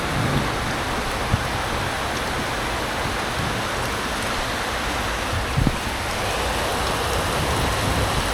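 Heavy rain falls without pause, a steady, loud, hissing roar with occasional faint knocks, and no voices.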